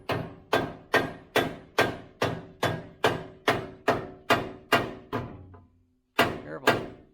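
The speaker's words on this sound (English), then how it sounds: "Okay, you're gonna have to hammer it on more." A hammer strikes a part onto the axle of a Toyota FJ40 Land Cruiser during an axle swap, about a dozen loud, evenly spaced metallic thunks close by, a brief pause, then two more blows.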